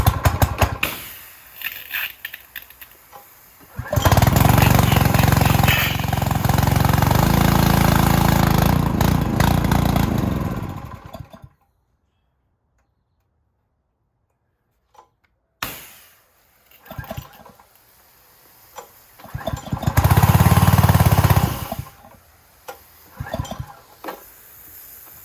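A small gas power washer engine left outside all winter runs on leftover fuel in the carburetor with the fuel shut off, loud rough running that cuts out into silence, then briefly surges again.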